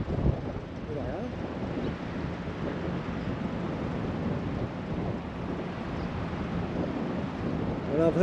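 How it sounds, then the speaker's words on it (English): Wind buffets and rumbles across a microphone outdoors in central Australia, steady and loud throughout with gusty low roaring. "Pretty windy today."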